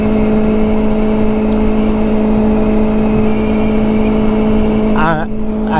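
A 2024 Kawasaki Ninja ZX4RR motorcycle being ridden gives a steady, loud engine drone at constant pitch with wind rush, and a short wavering pitch change near the end.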